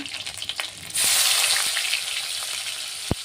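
A tempering of egg, dried chili, garlic and onion hitting hot oil, setting off a sudden loud surge of sizzle that holds steady and close, with a few clinks before and a sharp knock near the end.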